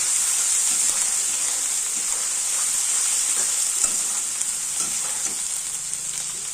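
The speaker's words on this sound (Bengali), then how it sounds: "হালকা একটু জিরের গুঁড়ো দেবো মশলাটাকে দিয়ে ভালো করে এবার কষাবো" Masala spiced with ground cumin sizzles and sputters steadily in a hot pan for a fish-head muri ghonto, with a bright hiss throughout and soft scraping stirs; nobody speaks.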